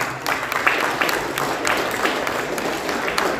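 Crowd at a FIRST Tech Challenge robotics league meet applauds the teams, a steady wash of many clapping hands in a large hall, fairly even in level throughout.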